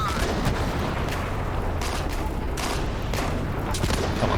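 Coaxial machine gun on a tank fires in the Steel Fury combat game, loud continuous bursts layered with booming battle explosions and gunfire throughout.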